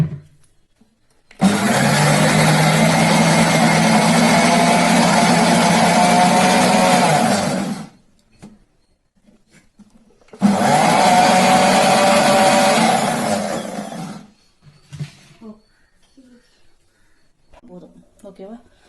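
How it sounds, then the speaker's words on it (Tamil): A kitchen mixer grinder whirs loudly as it grinds garlic cloves and ginger into paste. There are two steady bursts of several seconds each with a pause between them, and faint clatter and light noise follow. "மிக்சியில் இஞ்சி பூண்டு பேஸ்ட்டு ஒரு 7-8 பல்லு பூண்டு போட்டு அதுக்கேற்ற மாதிரி இஞ்சி போட்டு அரைச்சி எடுத்துருக்கேன்."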